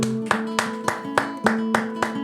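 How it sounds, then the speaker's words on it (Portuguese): Studio audience at a podcast on Brazilian classical guitar, several hands clapping in a short, evenly spaced rhythm over a sustained steady tone, no talking. "Palmas, merece palmas, pessoal."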